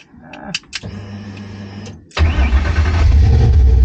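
Coyote V8 swapped into a classic Ford Mustang starting up: a few clicks and a whirring starter crank, then the engine catches at about two seconds and settles into a loud, close, rumbling idle.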